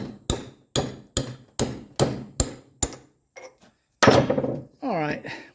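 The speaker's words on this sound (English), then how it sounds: "We're going to go ahead and just finish tapping it through." A hammer taps a front suspension bushing sleeve through on a 1985 Mercedes 300CD, eight sharp metallic blows in a steady rhythm, then a short pause and someone speaking.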